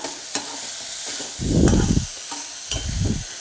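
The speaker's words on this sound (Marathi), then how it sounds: "हलवायचं" Matki bhaji, a sprouted moth bean curry, is stirred in a pan: a spatula scrapes through it in two bursts over a light background sizzle, close and alone.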